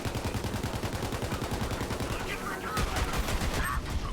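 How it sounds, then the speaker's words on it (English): Sustained SMG fire in the shooter game Borderlands 3, a fast continuous rattle of shots that runs the whole time, with a few sharper impact and effect sounds near the end. "Actually, let's use that SMG for this last one."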